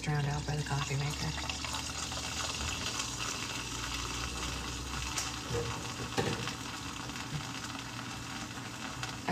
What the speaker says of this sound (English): My voice is drowned out by the coffee maker.